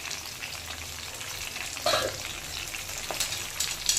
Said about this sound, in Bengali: এবার আমি এতে দিয়ে দেব কেটে রাখা পটল